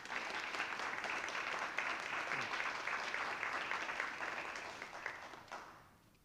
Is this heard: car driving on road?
no